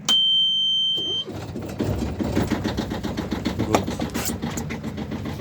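A sailboat's small motor in Spain starts after a brief beep, then settles into a quiet, steady idle with light mechanical chatter. A short spoken word is heard.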